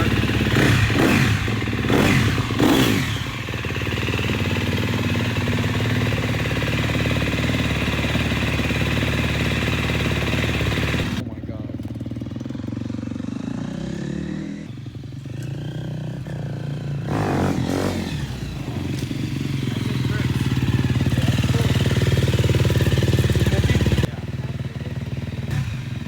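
A motorcycle engine runs loud and close, its low rumble and clatter shifting as it revs, dropping away abruptly mid-clip, then firing back up after an electric start before cutting off sharply near the end.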